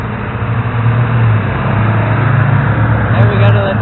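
Steady, loud rumble of cars passing on East King Street in Strasburg, Virginia, with indistinct voices mixed into the traffic noise.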